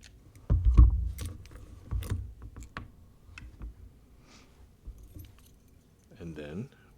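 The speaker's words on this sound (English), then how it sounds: "First, we will extract the cylinder" Metallic clinks, jangles and small mechanical clicks as the cylinder is worked out of an Abus 72/40 padlock, a louder clatter near the start followed by scattered softer taps, with a brief voice near the end.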